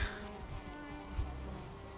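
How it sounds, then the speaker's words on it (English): A mosquito buzzes in the video game Valheim, a thin, steady insect whine close by with a faint thump or two underneath and no talking. "Oh! Mosquito! Oh, just a mosquito."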